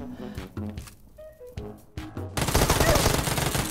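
Gunfire in the mobile battle-royale game Game for Peace: a few scattered, close shots early on, then from midway a dense, loud burst of rapid fire and explosions that fills the rest, with no talking.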